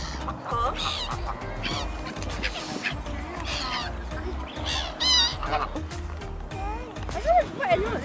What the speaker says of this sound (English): The brown grey one is duck.